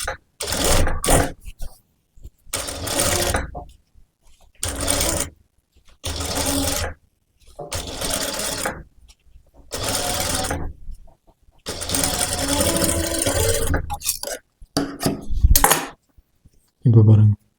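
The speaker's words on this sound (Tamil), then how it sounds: "இன்னொரு தையல் கூட கரெக்டாக அந்த லைன்லேயே ஓட்டிக்கோங்க" Sewing machine stitching a princess-cut boat-neck blouse, running in loud bursts of a second or two each separated by short pauses, close and clear with no talk.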